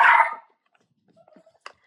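A dog lets out one loud, close bark at the start, then faint small sounds follow in near silence.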